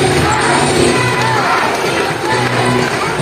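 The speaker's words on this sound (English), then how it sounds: "let's cheer for Isis" A crowd at a sea lion show at Manila Ocean Park cheers and shouts loudly and continuously for the sea lion Isis, with children's voices and whoops mixed into the dense roar.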